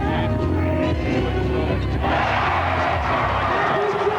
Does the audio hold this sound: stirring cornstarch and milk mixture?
no